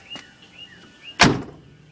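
A Chevrolet Corvair car door shuts with one solid, close-up thunk and a short rattling decay, following a few faint creaks and squeaks while the door swings.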